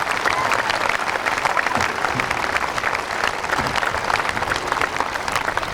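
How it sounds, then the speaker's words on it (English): Sustained applause from a large crowd at a grand opening ceremony, a dense, even wash of clapping that holds steady for several seconds. "let's give them a round of applause"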